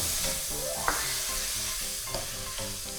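Glass noodles and water go into a sizzling pan of shrimp, a close steady frying hiss with occasional stir clicks, while soft tonal background music plays underneath.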